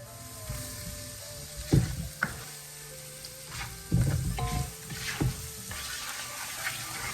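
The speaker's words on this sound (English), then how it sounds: "I'll add my masala, geera," Masala, geera and green seasoning fry in a hot pan for a spicy duck curry. The sizzling is steady and close, broken by a few sharper crackles and stirring bursts, and nobody speaks.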